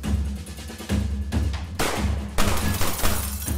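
Several sharp bursts of gunfire, loud and close, each cracking out abruptly over a rumbling background.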